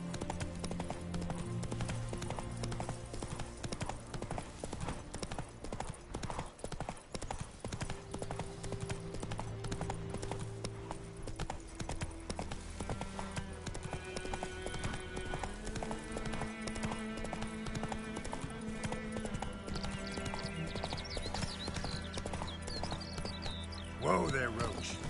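Roach, a horse in The Witcher 3, clip-clops along at a steady trot, close up and under continuous game music, with a brief neigh.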